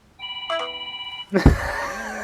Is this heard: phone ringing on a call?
yes